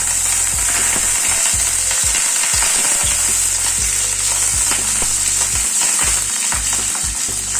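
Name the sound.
cherry tomatoes frying in a pan on low flame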